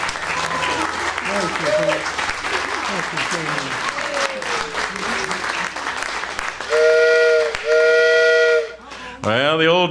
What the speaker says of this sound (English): Well, the old train whistle's blown,